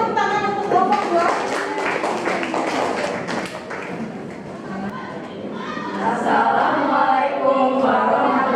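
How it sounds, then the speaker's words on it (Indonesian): Applause and tapping from a classroom of students in a Grade 12 statistics lesson, dense and sustained throughout with crowd chatter and children's voices mixed in. "Beri tepuk tangan untuk kelompok 2."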